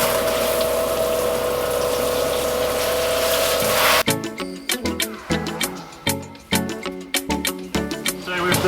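A recirculating shower pump in a Ford Transit van runs with a loud, steady whirring hum. It cuts off abruptly, followed by irregular knocks and clatter.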